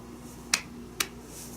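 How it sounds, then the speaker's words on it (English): Two sharp hand claps, close and clear, spaced about half a second apart against a quiet room with no talking. "clap your hands twice and say, "So it is finished.""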